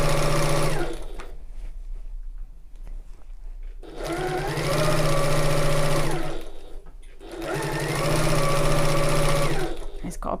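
Three long, steady runs of a sewing machine stitching around the top of a tote bag, humming and whirring close by with short pauses between, the motor pitch rising and settling within each run.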